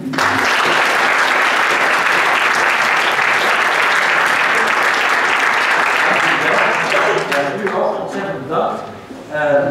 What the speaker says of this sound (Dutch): Mag ik uw applaus voor Pier Fennekraat, Suzanne Kreuker, Marco